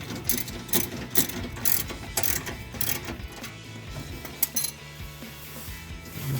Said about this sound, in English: Tighten this clamp down.